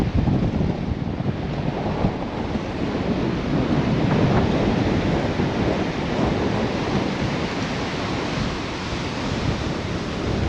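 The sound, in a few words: wind blowing at the beach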